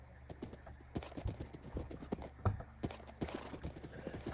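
Horses in a video game, steady hoof clip-clops repeating through the scene alongside a brief whinny, moderately loud with game background noise.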